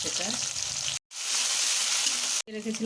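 Dried red chillies, cumin, bay leaf, asafoetida, tomato, green chilli and ginger paste hit hot oil for a jackfruit kofta curry, giving a loud, close, hissing sizzle with stirring, broken by two brief cuts to silence.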